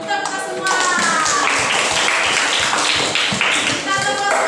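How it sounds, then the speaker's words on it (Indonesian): A classroom group claps hands together, a dense burst of rapid, overlapping claps following a brief spoken line, continuing loudly to the end. "tepuk tangan dulu kita semua"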